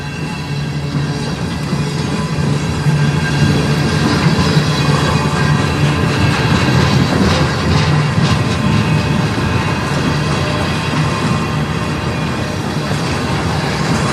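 CN manifest freight M301, led by locomotives 2256 and 2685 on the Strathroy Subdivision, rolls by close and loud in a continuous roar of wheels and cars, with gusty wind buffeting throughout and no voices.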